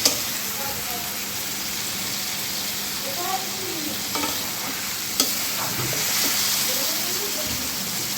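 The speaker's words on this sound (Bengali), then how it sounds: "এগুলো টক রান্না করা হচ্ছে" A sour green mango dish cooks in a pot, giving a continuous bubbling sizzle with scattered stirring clinks and scrapes throughout. A faint voice may sit in the background.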